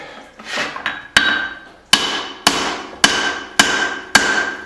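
A cross peen hammer strikes hot steel while forging a hatchet, six sharp ringing blows at a steady, roughly half-second-apart rhythm after a few softer taps, each one loud and close with a short metallic decay.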